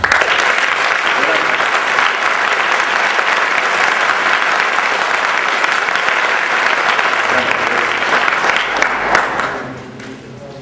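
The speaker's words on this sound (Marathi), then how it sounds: "आता खेळ करायचा, तर जोरात टाळ्या वाजवा" Students in a college classroom clap loudly and steadily in unison, dense continuous applause filling the room for about nine seconds before it tapers off at the end.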